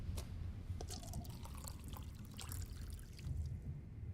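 Water trickles and drips in the video game Life is Strange, a faint, steady liquid pour with scattered small splashes over a low background rumble.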